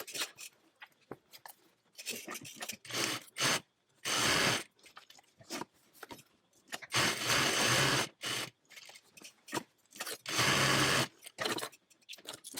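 A sewing machine stitching a fabric tote bag with a lining, running in several bursts of a few seconds each, separated by pauses with quiet handling clicks and rustles, fairly close and with no talking.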